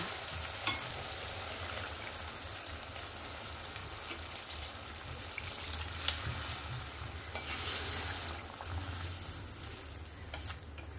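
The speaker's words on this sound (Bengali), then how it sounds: "আবারও একবার নাড়াচাড়া করে নিয়ে পরিমাণ মতো জল দিয়ে দেব।" A potato and pointed gourd curry with mustard and poppy seed is stirred in a pan, producing a quiet, continuous frying hiss with intermittent scraping strokes and splashy bursts as water goes in.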